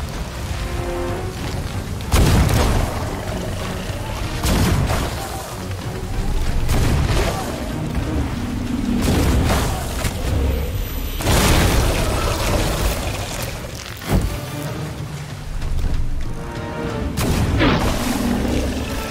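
Ship cannons firing in the pirate video game Sea of Thieves during a Davy Jones boss fight, a run of heavy booms spaced a few seconds apart over a dense, noisy battle bed.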